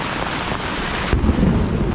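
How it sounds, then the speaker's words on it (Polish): A deep thunderclap booms midway through over steady downpour rain in Krynica-Zdrój, rumbling on for about a second; no one speaks. "Wow! Niezły piorun."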